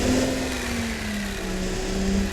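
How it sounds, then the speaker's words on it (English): A Toyota 1GZ-FE V12 idles steadily while warming up, a smooth continuous hum with a faint slowly shifting tone, close and even in level with no talk. "This is the engine warming up, and it's producing"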